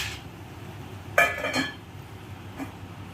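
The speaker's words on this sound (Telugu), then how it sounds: "కొద్దిగా ఇలా కలుపుకొని మూత పెట్టుకుంటాం" A metal lid set onto a cooking pot after leaves are stirred in, a sharp clink followed by a short rattle and one fainter tap.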